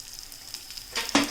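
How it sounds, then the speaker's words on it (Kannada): Holige cooks in ghee on a low flame, giving a soft, steady sizzle with a brief louder crackle near the end, close and quiet with no voices. "ನೋಡಿ, ಈ ಥರ ತುಪ್ಪದಲ್ಲಿ ಬೇಯಿಸಿದರೆ ಚೆನ್ನಾಗಿರ್ತದೆ"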